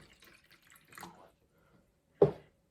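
Water is dribbled onto a model railroad layout, with a couple of faint wet trickles followed by one distinct close drip or splash, set against near silence.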